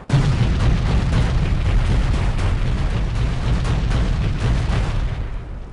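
Artillery shells exploding in the helicopter combat game Comanche 3 Gold, during a campaign set in Ukraine: a continuous, loud, rumbling barrage of booming blasts that runs without pause and fades slightly at the end.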